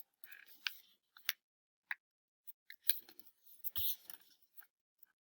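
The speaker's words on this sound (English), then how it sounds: "I'm going to take each of these corners here and I'm going to fold it in towards the middle" Paper is folded in toward the middle by hand, producing faint, close crinkles and sharp creasing clicks scattered irregularly through the quiet.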